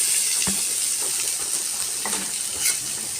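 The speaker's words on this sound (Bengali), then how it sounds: "তেল গরম করে জিরে ও শুকনো লঙ্কা ফোড়ন দিলাম ডাল মাখানোটা ঢেলে দিলাম" Cumin and dry chilli tempering in hot oil with a mashed mung dal mixture poured in, a bright continuous hiss and sizzle with a few soft knocks of stirring, close and fairly loud.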